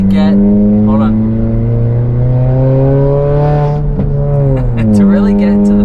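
A 2018 Honda Accord Sport engine climbs steadily in pitch as it revs high, loud and close from inside the cabin, with a brief dip near the end before it rises again.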